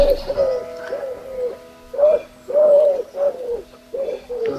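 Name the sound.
owl calling in a wood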